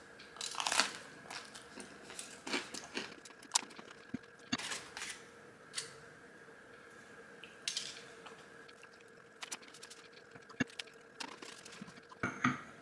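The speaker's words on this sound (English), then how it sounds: "You can hear the crunch in the crust." Crisp crunches and bites come in irregular bursts, close up, as someone chews through a crunchy frozen pizza crust in a quiet room.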